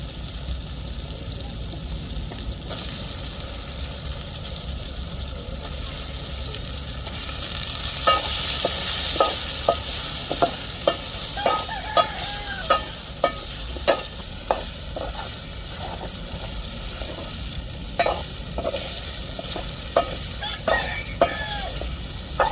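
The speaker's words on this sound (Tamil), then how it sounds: "இப்போ நல்லா வதக்கி விட்டாச்சு கத்திரிக்காயை." Eggplant and tomatoes sauté in a pan for a South Indian kuzhambu, giving a steady hiss of frying with repeated scraping and tapping as a spoon stirs the vegetables, close and continuous.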